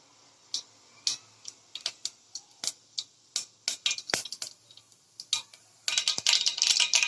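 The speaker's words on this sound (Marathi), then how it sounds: "1 चमचा मोहरी ती तडतडली आहे" A spoonful of mustard seeds crackles in hot oil in a pot while tempering for green moong dal khichdi, giving sharp irregular pops and snaps that quicken into a dense burst of crackling near the end.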